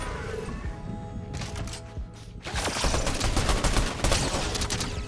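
Rapid bursts of gunfire in the video game Fortnite, Zero Build mode, crackling loudly and continuously through the second half after a quieter, sparser opening with scattered shots.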